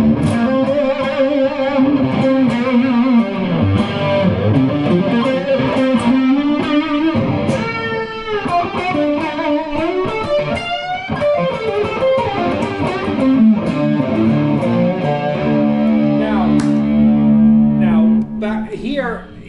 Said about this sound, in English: I hit it with fuzz there, right?